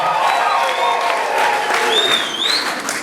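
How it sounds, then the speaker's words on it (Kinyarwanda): Congregation applauding in a church service, a steady wash of dense clapping with crowd noise and some cheering throughout, with a few high whistle-like tones rising near the end. "komera Kristo amashyi menshi n'umuntu mwinshi"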